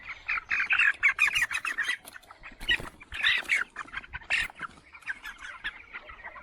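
Poultry chickens clucking and squawking in a farm shed, a dense chorus of overlapping calls, loud and close, with louder bursts rising and falling throughout.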